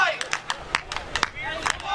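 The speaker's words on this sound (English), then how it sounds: "the crowd attempting to clap in unison, but they were a little off their game there" A crowd at a championship wrestling show claps roughly in unison, sharp handclaps recurring at a loose, slightly uneven rhythm above crowd murmur, while a commentator talks.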